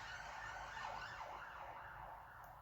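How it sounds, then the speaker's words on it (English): Several emergency vehicle sirens wail together outdoors at a distance, their rising and falling tones overlapping in a continuous, fairly faint wash over low traffic rumble. "Okay, lots and lots of sirens there."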